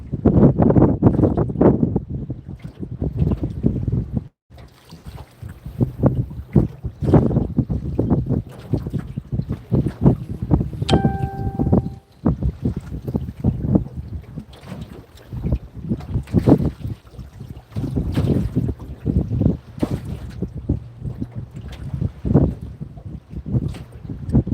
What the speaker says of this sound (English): The wind is just blowing super fast.